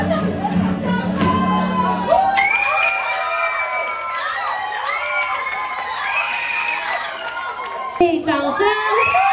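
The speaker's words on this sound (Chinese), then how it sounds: "掌声" An audience at a live performance event in Taitung cheers loudly, with shouts, whoops and high excited voices rising in a sustained wave of crowd noise that lasts several seconds.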